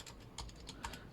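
Keys clacking on a Razer Huntsman V2 keyboard with red linear switches, a few distinct close-up keystrokes spaced unevenly over about a second, with no voices.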